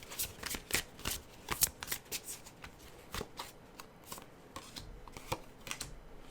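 Tarot cards shuffled by hand, a series of crisp riffles and slaps in irregular bursts, close and fairly quiet with no voice.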